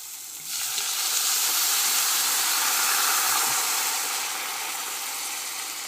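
Wine hits hot, oil-coated rice in a pan for mushroom risotto, setting off a sudden loud sizzle that stays strong and steady for several seconds and then eases slightly.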